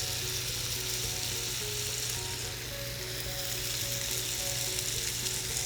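A seasoned scotch fillet steak sears in a hot pan, producing a loud, even, continuous sizzle close at hand over a low hum, with no talking.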